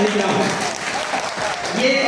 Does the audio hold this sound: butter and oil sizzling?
no